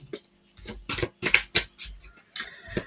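Playing cards are shuffled and handled for a card reading, producing a run of crisp, close papery snaps and flicks in uneven bursts with short pauses between them.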